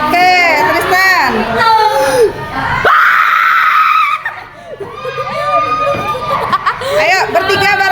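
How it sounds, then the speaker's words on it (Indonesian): Students in a classroom scream and shout together in loud, overlapping bursts, with a brief pause before another round of group yelling. "Siapa satu orang mau teriak?"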